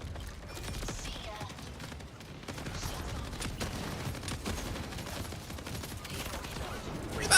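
Shotgun blasts fire in a video game, a dense run of loud bursts and mechanical clatter over steady background noise, with no clear gaps between shots.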